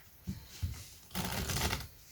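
Playing cards are shuffled close up: two quick riffles, then a longer crisp flutter of cards being riffled together.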